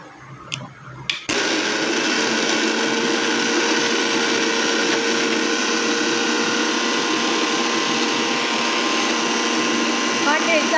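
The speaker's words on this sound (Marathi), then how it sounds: "आता मी याचं वाटण करून घेते" Dried Bombay duck thecha is ground in a mixer grinder. After a few brief knocks, the motor starts abruptly and runs as a loud, steady, close whir with a gritty grinding texture until the end.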